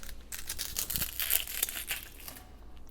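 Papery onion skin being peeled off by hand, a run of dry crinkling and light tearing rustles up close over about three seconds, with no voice.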